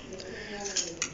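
A metal spoon is picked up and handled in a kitchen while dalgona sugar candy is being made, giving a few light, close metallic clinks over a soft background hum.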